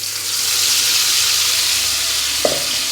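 Ground tomato paste poured into hot oil in a pan, giving a loud, steady, broad sizzle for nearly three seconds, with one short clink near the end.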